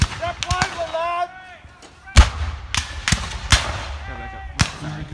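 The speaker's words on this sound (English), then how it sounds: "commence fire!" Black-powder gunfire from historical reenactment weapons at a Civil War battle demonstration during a Heritage Days festival in Galesburg, Illinois: five or six sharp, loud single shots at irregular intervals, the first preceded by shouted voices and a trumpet-like call.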